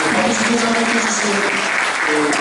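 Full, loud audience applause at a book launch event, continuous dense clapping with a faint voice or murmur beneath.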